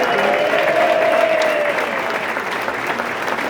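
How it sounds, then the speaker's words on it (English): Parade crowd at the NYC St. Patrick's Day Parade applauds Tommy Smith, the president, with loud, dense, sustained clapping and some cheering, fading slightly toward the end. "I also want a round of applause for Tommy Smith,"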